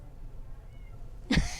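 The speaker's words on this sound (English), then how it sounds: "He's a very alert cat" A black and white cat lets out one short, clear meow near the end, after a quiet stretch of room tone.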